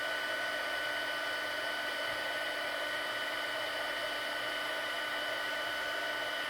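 A heat tool blows steadily for the whole stretch, drying Stampin' Up! Snowfall accent puff paint so it rises. The whir and airflow stay constant and close, with no voices over it.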